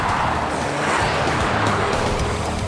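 A 2008 Dodge Caliber car with the accelerator floored, its engine giving a loud, steady, broadband roar that runs unbroken for about three seconds, close by, with no voices.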